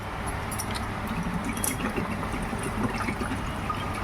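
Water pours into a pressure cooker holding peas and salt, a soft, continuous trickle and splash heard fairly faint and alone.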